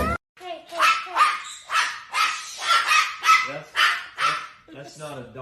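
A parrot imitating a dog, giving a run of about eight loud, close bark-like calls in quick, fairly even succession that sound convincingly canine, with a rough, noisy edge.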